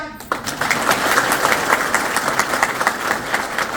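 An audience at a talk breaks into applause after a brief quiet start, then keeps up thick, even clapping at a loud level.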